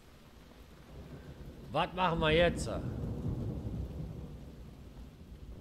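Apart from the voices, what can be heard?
rain and thunder in the video game Wolfenstein: The New Order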